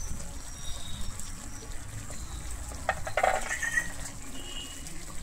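Cauliflower roast seasoned with chopped coriander and garam masala is stirred in a pan, a soft continuous sizzle with scraping and stirring clatter that grows busier midway, fairly quiet and close.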